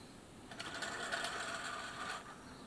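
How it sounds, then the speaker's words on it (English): An Elna Lotus sewing machine stitches in a short steady run while picking up the bobbin thread, its motor whirring close and fairly loud throughout, easing near the end, with no talk. "let's have another go and see if we can pick up the bobbin thread"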